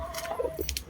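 A White Hatch gamefowl chicken in a backyard gives a few short, close clucks in quick succession over light background noise, with no talking.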